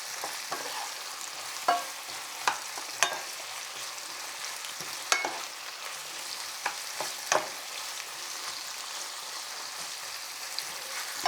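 Chicken stew with carrot sizzles in a pot over steady frying hiss, with occasional sharp scrapes and knocks of a spoon stirring, close and even.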